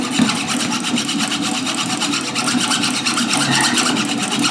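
A hand saw rasps back and forth across a hardened steel ABUS padlock shackle in quick, even, close strokes that sound loud and gritty throughout.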